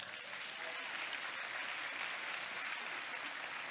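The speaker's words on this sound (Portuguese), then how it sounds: "Quem pode aplaudir ao Senhor?" A church congregation at a Sunday celebration service applauds, a steady wash of many hands clapping at once, continuous and fairly distant with no pauses, with faint voices underneath.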